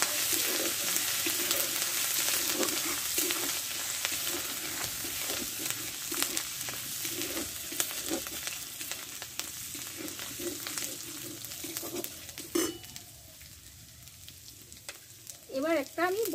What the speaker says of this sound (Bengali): দেখো লঙ্কা, জিরে, তেজপাতাটা ভালো করে একটু ভেজে নিয়েছি।